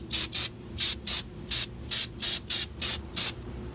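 An aerosol can of brake cleaner fires about ten short, loud bursts in an even rhythm, each a sharp hiss with brief quiet gaps between, close by and with no talking.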